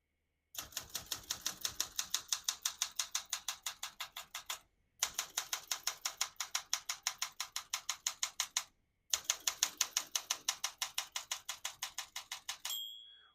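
Rapid, evenly paced keystrokes clack on a 1968 Olympia SM9 portable manual typewriter in three long runs separated by short pauses. A small bell rings near the end, close and clear.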